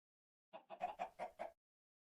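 Chickens in the video game Minecraft clucking, a quick run of six short, close clucks with nothing else around them.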